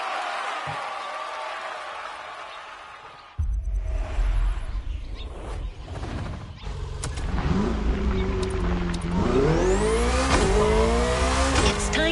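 A BMW car driven on the roads of Maui in a video game, its engine revving and accelerating loudly, with rising gear sweeps and tire squeal after a quieter opening passage.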